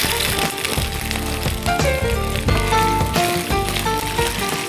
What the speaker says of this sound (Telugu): ఇప్పుడు ఈ మూడింటిని మనం కొంచెం ఫ్రై చేసుకుందాం.